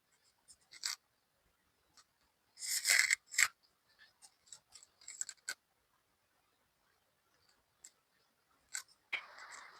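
Scissors trim through suit fabric in a quiet room, giving sparse close snips and scraping cuts in short clusters, a couple of louder crunchy cuts among faint ticks.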